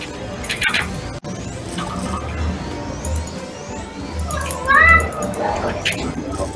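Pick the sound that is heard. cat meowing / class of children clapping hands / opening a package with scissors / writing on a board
cat meowing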